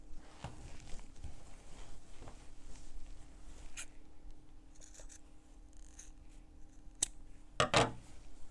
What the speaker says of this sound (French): je crante les coins